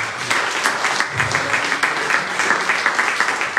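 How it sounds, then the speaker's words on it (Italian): A church congregation claps together after a sermon, producing a rhythmic, pulsing applause with fairly regular beats, close and clear for a few seconds. "Facciamo un applauso."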